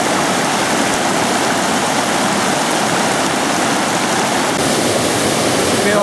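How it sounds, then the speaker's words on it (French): A waterfall near Canmore and Banff, Canada, roars steadily and close, a dense continuous rush of falling water with no pauses. "On a même trouvé une cascade pour se tremper les pieds."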